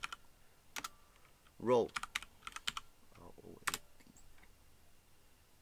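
Keys tapped on a computer keyboard to enter a search term, a short close burst of clicks with a voice speaking briefly alongside.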